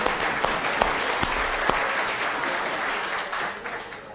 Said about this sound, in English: can we have a round of applause for the e-scribes